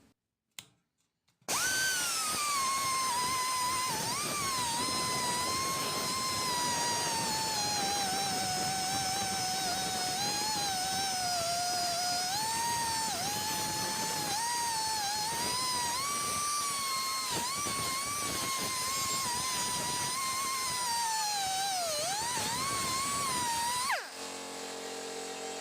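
A grinding disc strips surface rust from the metal of a green limousine's plenum, giving a loud, steady high-pitched whine that runs unbroken for over twenty seconds after a brief start and stops abruptly at the end.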